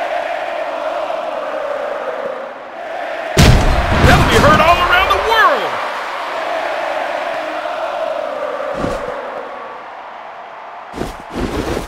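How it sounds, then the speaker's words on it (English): Crowd roaring in the WWE Mayhem wrestling video game, a sustained arena din with a loud burst of impact and cheering midway and sharp hits near the end. "Oh, do you hear that crowd?"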